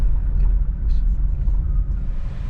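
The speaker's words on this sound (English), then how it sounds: "there you go, nice ride in the old car" A 1959 Chevrolet Bel Air driving, with a low, steady engine and road rumble heard from inside the car throughout.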